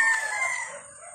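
A rooster crows on a farm, one clear, loud call that holds steady and then trails off, with no talking over it.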